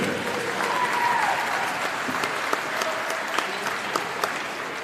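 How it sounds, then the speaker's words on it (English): Spectators at a high school boys basketball game clap in a sustained round of applause on senior night, steady and fairly loud, with a few sharper claps and faint crowd murmur in the gym. "Another round of applause tonight for Abby Couch, Wesley Oliver, and Brent Hen"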